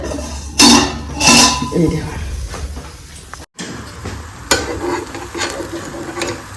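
Paratha frying in a pan, with a soft sizzle under clattering scrapes and knocks of a utensil against the pan, loud and close, and a person talking intermittently.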